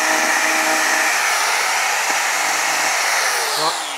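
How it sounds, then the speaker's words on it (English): A wooden tenon on a bowl blank is ground on a woodturning lathe, producing a loud, continuous broadband whooshing roar held steady for several seconds close by, tapering slightly at the end. "So I'm just going to grind this."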